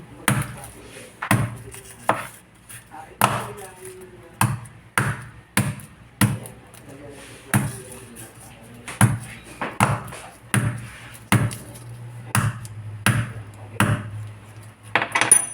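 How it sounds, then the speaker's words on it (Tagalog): A knife slices garlic on a cutting board with sharp, evenly spaced chopping knocks, roughly one or two per second, close and distinct against a quiet background. "Ganito lang ako mag-slice ng aking bawang."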